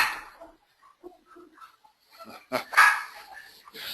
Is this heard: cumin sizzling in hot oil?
no